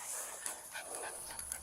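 A tiny blind, deaf dog whimpering softly, giving thin, high, faint whines with a couple of small yips over a steady background hiss.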